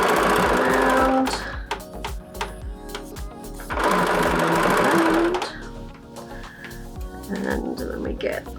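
A sewing machine stitches around the corner of a fabric tote bag, running in loud whirring bursts separated by short pauses, with someone talking throughout.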